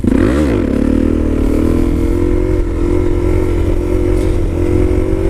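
Yamaha Bolt motorcycle engine running loud and close, a continuous throaty rumble with a quick rev at the start settling into a steady drone.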